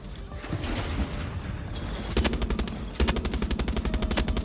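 Rapid automatic gunfire from a Far Cry 6 co-op special operations match, loud and close, with dense bursts of repeated shots that intensify and quicken in the second half.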